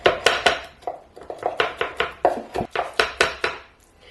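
A knife minces shrimp on a cutting board in a quick, steady run of about a dozen sharp, close chopping thuds.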